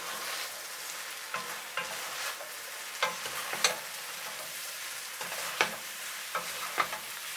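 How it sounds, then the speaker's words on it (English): Short homemade noodles with bean sprouts and garlic leaves, Cambodian lort cha, sizzle steadily in a pan. Soft sizzling runs throughout, broken by repeated sharp spatula scrapes and clacks at an uneven rhythm. "Stir for 20 seconds."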